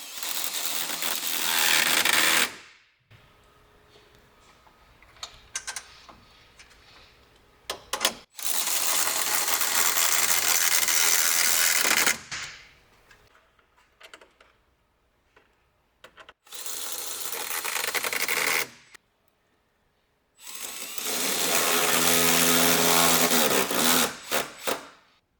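Bolts on a 4th gen Toyota Tacoma bumper being tightened in four loud bursts of a power driver whirring and rattling, separated by quieter stretches of faint clinks and handling, with no talk.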